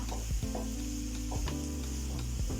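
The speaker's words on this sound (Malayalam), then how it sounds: "മല്ലിപ്പൊടി അതും ഒരു ടീസ്പൂൺ ഒന്ന് ഇളക്കി കൊടുക്കാം" Coriander powder and Kashmiri chilli being stirred into a bitter gourd milk curry, a steady close sizzle with a few soft spoon scrapes against the pan, no voices.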